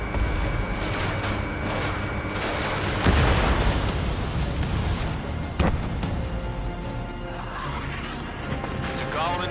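Enemy bombers being shot down in a video game make crunching blasts, with two sharper bursts standing out over busy game effects while voices talk in the mix.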